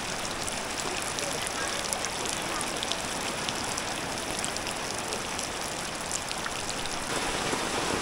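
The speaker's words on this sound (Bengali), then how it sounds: "কাকা বৃষ্টি লাগে" Steady rain pours down at a rural village market, a dense, continuous hiss of drops on surfaces running unbroken throughout, fairly loud and close, with faint voices mixed in beneath the downpour.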